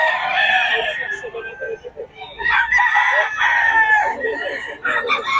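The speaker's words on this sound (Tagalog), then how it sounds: "Gaganda ng manok ni Boss Nelson yan" Several roosters crow one after another, loud and close, with clucking and overlapping calls filling the gaps.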